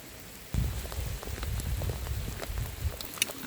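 Steady rain patters on the ground outdoors on a muddy day with puddles forming, a dense continuous hiss of drops with a few louder splashes close by.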